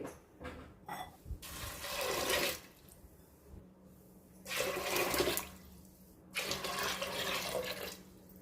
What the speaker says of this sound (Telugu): సో ఇందులో ఇప్పుడు వాటర్ వేద్దాము వాటర్ ఇది ములిగి అంత వాటర్ మనం వేయాల్సి ఉంటుంది